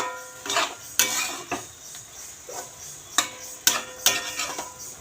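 A cooking pot of bottle gourd seasoned with turmeric and salt is covered with its lid, giving a string of sharp clinks and clatters, several distinct knocks spaced irregularly in a quiet kitchen.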